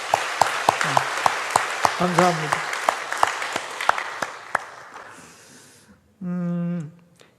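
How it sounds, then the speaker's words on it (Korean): A church congregation claps briefly to encourage small-group leaders: scattered, fairly close claps that thin out, followed by a short spoken word and a sustained tonal sound near the end. "우리 격려의 박수를 보내겠습니다"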